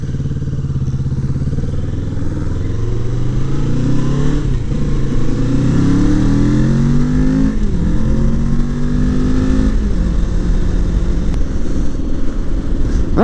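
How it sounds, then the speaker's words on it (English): A group of loud motorcycles rolls in together, engines droning and revving in overlapping rising pitches, close and constant throughout at a Halloween ride-out in Sequim, Washington. "We just came in here with all our bikes, louder than shit."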